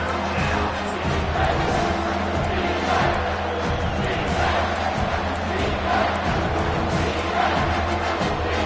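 A packed football stadium crowd roars loudly and continuously on a third down, a dense sustained wall of cheering and yelling with a play-by-play commentator faintly under it.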